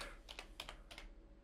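Quick, light keystrokes on a computer keyboard, a few soft clicks in short bursts, close and quiet with no voice over them.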